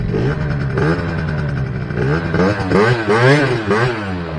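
A Yamaha Aerox scooter with a newly replaced engine runs close by, its buzzing two-stroke tone rising and falling in short revs over a steady idle, loud, with no voices.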